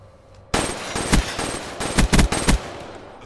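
Rapid gunfire in Black Ops 3 multiplayer, a sudden loud burst followed by sustained automatic fire with several heavier punchy shots near the end, close and dense, with no voices.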